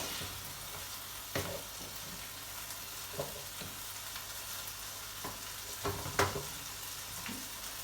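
Rice and chicken sizzle in a pan on a lit stovetop while a spoon stirs and scrapes through them, a steady close frying hiss broken by occasional knocks.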